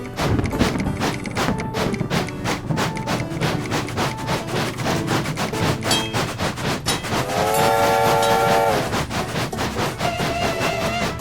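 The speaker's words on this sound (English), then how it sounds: "if you blow the whistle with other streetcars and steamships nearby, they will whistle back in reply" A video game train rattles along the rails with rhythmic clacking and rumble, then a loud, sustained multi-tone whistle sounds partway through before the running noise carries on.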